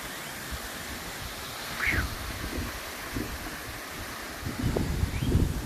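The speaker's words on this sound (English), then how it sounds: "look at this wind." Wind gusts through a forest on a windy day, a broad rushing hiss rising and falling, with leaf rustle and louder surges near the end, heard close with no talk.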